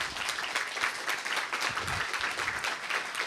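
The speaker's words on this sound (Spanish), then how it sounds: "Un aplauso para ellos, por favor." Brief round of applause from an audience at a talk, a close, dense patter of hands clapping steadily at moderate volume.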